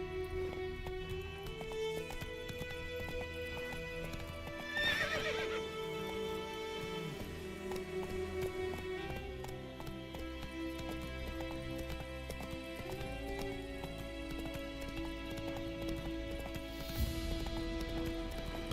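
Roach, the horse in The Witcher video game, gallops with steady rhythmic hoofbeats over a continuous game music and ambience bed, with a brief whinny partway through.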